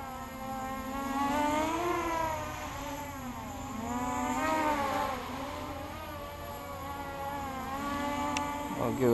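Motors of a Blade Mach 25 drone on a 3s lipo run at full throttle, a steady high whine with wavering harmonics that rises and falls in pitch as it surges, close and continuous, ending in a brief sharp knock.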